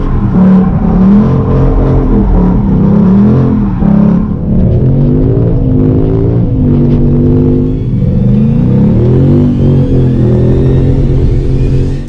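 A 2017 Ford Mustang GT with a six-speed manual revs loudly and continuously, its pitch rising and falling through several throttle swells, close and steady over the whole stretch.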